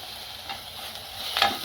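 Ginger garlic paste frying in a pan for a ridge gourd and moong dal curry, a soft, quiet sizzle with faint stirring scrapes and a brief brighter hiss near the end.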